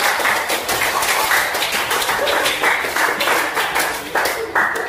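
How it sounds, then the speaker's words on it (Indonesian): A school class applauds a group's physics presentation on static fluids: a few seconds of lively, fairly loud clapping from many students in a classroom, with crisp overlapping claps and faint voices mixed in. "Kita berikan aplaus dulu."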